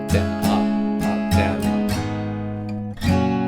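An acoustic guitar strums chords in a down-down-up-down-up pattern, with sharp bright attacks roughly every half second ringing into each other, close and clear with no talking.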